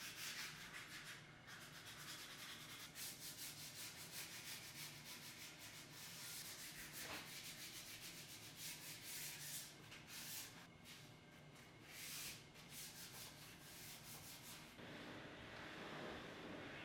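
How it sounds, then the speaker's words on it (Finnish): Sandpaper rubbed over varnished wooden surfaces of a mid-century dining table, a steady, soft, rhythmic scratching hiss that continues close and faint throughout. "hion pinnat tasoittaakseni jäljen"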